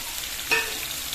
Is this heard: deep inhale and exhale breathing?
no